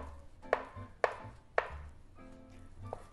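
A knife chops a peeled banana into small pieces on a board while making Ugadi pachadi: three or four crisp, evenly spaced chops, close and fairly quiet, with no talking.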